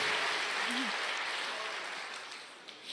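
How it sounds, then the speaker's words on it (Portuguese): A church congregation applauds during a sermon, a broad, steady wash of clapping that fades slightly toward the end, with a brief voice sound early on. "Dê uma salva de palmas."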